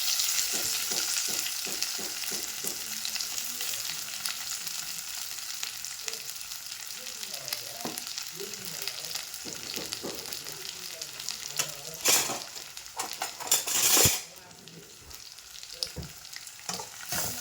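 Onions and curry leaves sauté in a hot pan with a steady sizzle, broken by frequent scraping strokes of a spoon and a couple of louder bursts of frying near the end, close and without talk.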